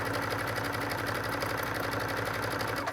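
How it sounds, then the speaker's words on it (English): A sewing machine zigzag-stitches a bridal veil edge steadily at speed, a fast rhythmic mechanical chatter of the needle, close and continuous, stopping at the very end. "the foot just straightens it out right underneath the sewing machine needle"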